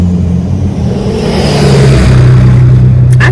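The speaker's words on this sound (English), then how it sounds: "every time I want to record, people gotta come with their loud ass cars" A loud car passes outside, its engine droning steadily and swelling as it goes by, dominating the whole moment with no voices.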